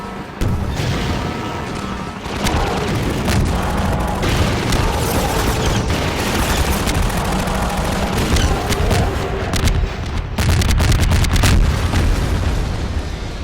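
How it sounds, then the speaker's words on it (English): Explosions and heavy gunfire from shooting down a gunship in Half-Life 2, loud and continuous with booming blasts, rapid bursts of shots and a dense rumble throughout, intensifying near the end. "after shooting down the gunship, we're allowed to move onwards to another magnet crane"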